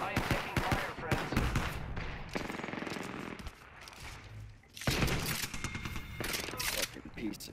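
Rapid bursts of automatic gunfire in a squad-based online shooter battle, loud and dense, firing in repeated volleys with brief pauses, while a player talks over the shooting.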